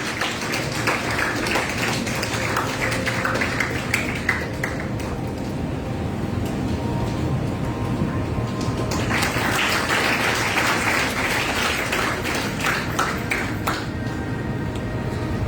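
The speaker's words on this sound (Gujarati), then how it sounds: "આ બધા માટે જોરદાર તાળી થઈ જાય" An audience at a yoga garba inauguration event in Jamnagar, Gujarat claps in sustained applause, a dense patter that swells, eases in the middle, then rises again.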